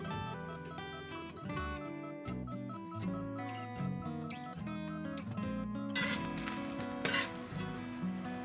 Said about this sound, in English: So we fry the bread in clarified butter